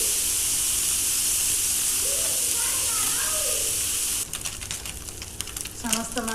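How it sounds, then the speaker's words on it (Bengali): Fish fry in hot oil with a steady broadband sizzle, then clattering stirs and scraping enter near the end, with faint background voices and a few tonal chirps. "একইভাবে সবগুলো মাছ আমি ভাজা ভাজা করে নেব।"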